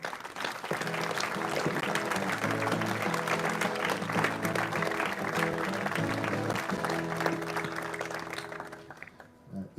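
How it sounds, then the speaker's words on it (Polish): Applause from a gathering at a Polish chapel prayer service, sustained clapping over a held musical chord that lasts nearly ten seconds before fading at the end. "Wielkie, wielkie brawa."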